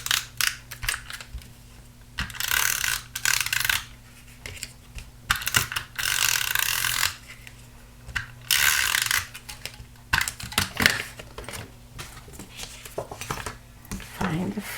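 A tape runner lays adhesive on a handmade masculine Father's Day card in short, crisp ratcheting bursts of clicking and tearing, several passes separated by quiet pauses, close to the mic.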